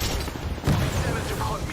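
A frag grenade blast and bursts of gunfire ring out in a video game, rumbling booms and rattling shots under loud, shouted voices.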